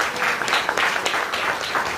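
A church congregation claps together in a dense, steady burst of applause that fills the full two seconds with no voices above it.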